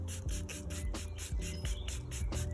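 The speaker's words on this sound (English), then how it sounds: "you simply spray it all over the boot" Nikwax Fabric and Leather Proof sprayed onto a walking boot, with repeated short close hissing bursts from the pump spray in a quick rhythm, alone without talk.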